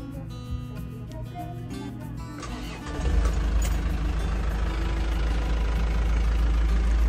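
An Isuzu Elf Long Giga Euro 2 minibus diesel engine cranks and catches at about three seconds, then settles into a loud, steady, low idle heard up close with no talking.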